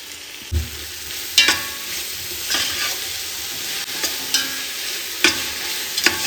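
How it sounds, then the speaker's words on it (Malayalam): Onion, tomato, crushed garlic and green chilli fry in a pan for chicken biryani, giving a steady close sizzle broken by scraping stirs at roughly one-second intervals. "ഇനി നമുക്ക് ഇതിൻ്റെ അകത്തേക്ക് തക്കാളി, വെളുത്തുള്ളി ചതച്ചത്, പച്ചമുളക് ചതച്ചത് ഇട്ട് കൊടുക്കാം."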